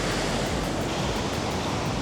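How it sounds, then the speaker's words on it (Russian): Calm ocean surf at a beach in Tangalle, Sri Lanka makes a steady, loud wash of sea noise with no distinct wave breaks and no voices. "Посмотрите, какой спокойный здесь океан относительно главного пляжа Тангале."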